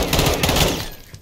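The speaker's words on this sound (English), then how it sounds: "Who is shooting me?" A short burst of rapid enemy gunfire in Call of Duty: Warzone DMZ cracks loudly for about a second, then fades out.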